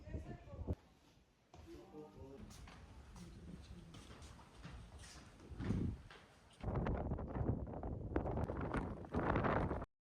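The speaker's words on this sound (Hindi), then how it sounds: "क्या जबरदस्त हवा चल रही है वैसे" Strong wind sweeps across the rocky hills of Gobustan in Azerbaijan, buffeting the microphone in loud, gusty roars that surge and drop, with voices talking at times underneath.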